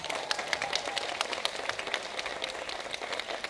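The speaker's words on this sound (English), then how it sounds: "Let's give them one more big round of applause." Applause from an audience at a first grade school performance, a steady wash of clapping close by with no talk over it.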